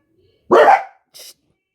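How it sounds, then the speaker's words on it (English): One loud, close bark followed by a shorter, higher yip, then silence. "Sorry, my dogs are barking."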